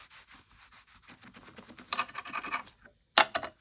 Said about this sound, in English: And I get my bone folder in there and kind of rub around.